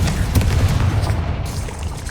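A Confringo blasting spell explodes in Hogwarts Legacy, a loud, deep booming rumble that rolls on without a break, heavy in the low end.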